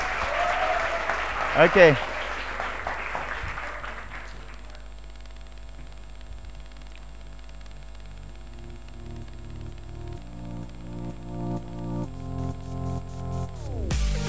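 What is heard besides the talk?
audience applause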